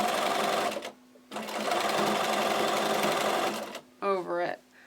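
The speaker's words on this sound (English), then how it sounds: "gather your fabric up and sew" A sewing machine stitches a gathered fabric ruffle in two long, steady runs with a short pause between, loud and close, followed by a brief moment of someone speaking.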